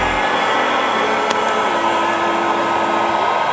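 Heat gun blowing hot air onto vinyl car wrap film to relax wrinkles, a steady, loud, even whoosh with a constant motor whine held throughout.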